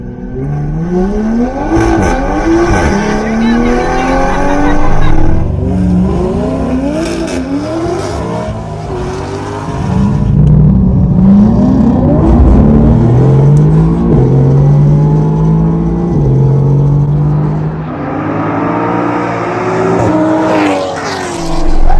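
A Supra and a Corvette drag race at a strip, engines revving hard through repeated rising gear sweeps, loud and close, with roaring acceleration building, dropping and climbing again.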